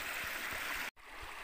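Creek water rushes past a clump of weed in a steady, hissy broadband flow, close and continuous, with a brief cutout just before the first second.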